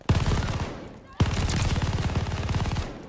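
Rapid automatic gunfire in the Call of Duty Vanguard video game comes as two dense bursts, the second starting with a sharp crack after a short lull. The shooting is loud and near and continues without speech.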